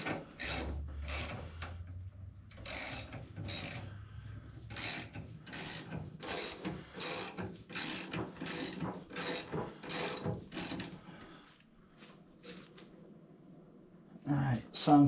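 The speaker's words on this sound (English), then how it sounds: "I'm going to spin the wheel and see if I'm getting any resistance on this wheel." The rear wheel of a 1976 Harley-Davidson FLH, jacked up during restoration, spins with a rapid series of regular mechanical clicks and ticks close by. It slows briefly near the end before a final burst.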